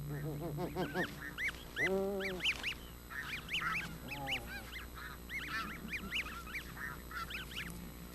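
Geese honk repeatedly in the Arctic in a lively, overlapping chorus, some calls nearby and loud, others fainter, with irregular bursts throughout.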